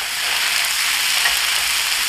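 Udon with bean sprouts, shrimp and squid stir-fried over high heat, giving a steady, bright sizzle and hiss close by that holds evenly throughout, with no talking.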